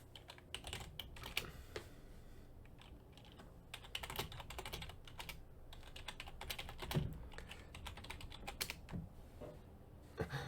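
Fingers type rapidly on a computer keyboard, a close, quiet, continuous patter of key clicks with uneven rhythm and occasional heavier strokes, with no talking.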